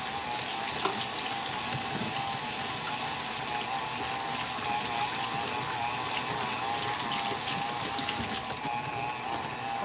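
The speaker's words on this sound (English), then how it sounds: "I'm gonna wash my hands really quick." Hands washed under a running kitchen tap while bread dough is being mixed, a loud continuous rush and splash of water into a sink that stays steady and close throughout.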